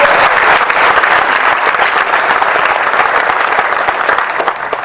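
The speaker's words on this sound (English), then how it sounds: "let's give yourselves a round of applause for being here" Sustained applause from a roomful of attendees at a Passaic County Commissioner meeting in January, dense and steady clapping throughout, loud and close, with no voices over it.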